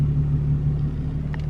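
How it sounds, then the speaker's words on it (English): A steady low engine rumble from a 2022 Lexus IS350 drones close by with no speech, a constant droning hum throughout. "What is that car's noise?"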